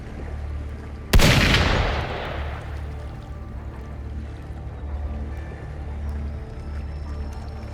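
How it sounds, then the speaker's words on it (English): A single sharp, loud gunshot in the video game Wuthering Waves cracks out and rolls into a decaying echo over a low, steady ambient rumble. "Gunfire! We've got intruders."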